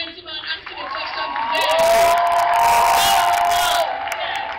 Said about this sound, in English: please round of applause for the first gentleman asking a question